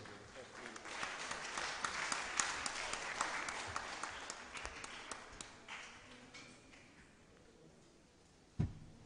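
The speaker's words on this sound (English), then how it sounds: "Another round of applause for the Honorable Minister." A crowd claps steadily for several seconds for a government minister at an event at the National Library of Nigeria in Abuja, the applause gradually thinning out, ending with a single sharp knock.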